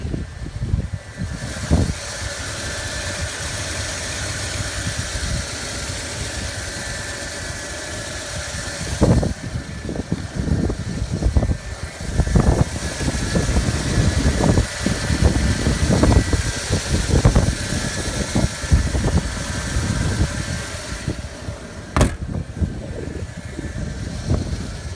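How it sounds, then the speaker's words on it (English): The V8 engine of a 1990 Rolls Royce Silver Spirit idles with a low, steady rumble, heard close up amid handling noises, knocks and rustles that rise and fall over its length. "Have a quick look at this V8 engine."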